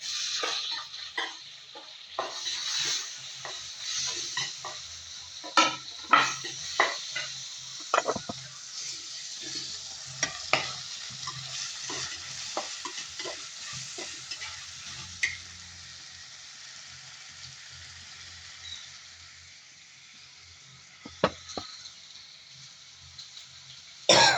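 Tomato, onion, ginger and garlic frying in a pan for a sardine curry, a continuous sizzle broken by frequent sharp spatula scrapes and stirring clatter, close and fairly loud with no voices.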